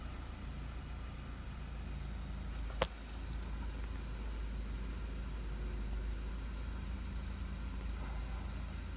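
A 2010 Ford Focus engine idles steadily after its canister purge valve was replaced, giving a close, even low rumble with no surges, broken only by one sharp click a little before the three-second mark.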